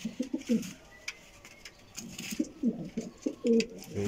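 Racing pigeons in a rooftop loft coo repeatedly, with low, throaty, rolling calls in uneven bursts, close by and moderately loud over light background noise.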